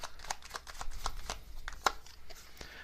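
Message cards are shuffled and drawn by hand during a card reading, a quiet run of soft riffling flutters and papery slaps with a few sharper snaps.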